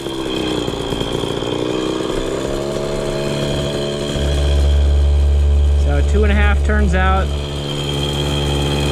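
A KTM 50 two-stroke dirt bike engine sputters and then settles into a fairly high, buzzing idle that swells louder partway through, while someone speaks briefly over it.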